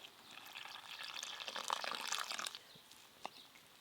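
Water poured into a flour and cornflour batter, a faint trickling splash that swells then stops, with a single drip afterward, quiet and close.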